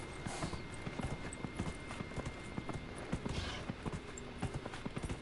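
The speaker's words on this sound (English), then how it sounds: "Horse!" A horse gallops in the video game Dragon Age: Inquisition, its hooves beating in a steady, quick clip-clop rhythm that stays close and loud throughout, with no talk over it.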